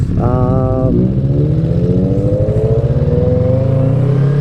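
A motorcycle engine revs and pulls up through the rev range while riding, loud and close, its pitch climbing steadily under a brief voice.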